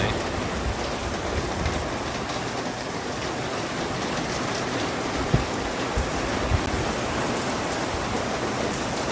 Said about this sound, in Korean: 비가 강하게 오네.